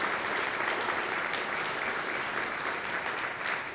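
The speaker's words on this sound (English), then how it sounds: "And so a round of applause." A crowd claps steadily in sustained applause, a dense even patter of many hands that holds for several seconds without talk.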